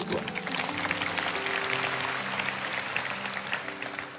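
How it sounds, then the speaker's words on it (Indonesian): A church congregation applauding during a worship service, with steady, dense hand clapping over sustained organ or keyboard tones, loud and continuous for several seconds. "Yang percaya kasih tepuk tangan untuk Tuhan."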